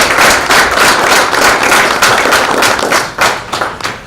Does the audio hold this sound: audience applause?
yes